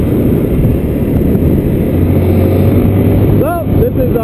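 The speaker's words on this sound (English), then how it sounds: "this is Matt's bike I'm riding" Motorcycle ridden along a road in Vanuatu, with a steady loud engine drone and heavy wind rush throughout, a brief rising pitch sweep near the end, and someone talking over it.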